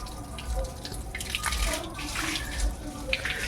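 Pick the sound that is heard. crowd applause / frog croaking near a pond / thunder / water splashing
water splashing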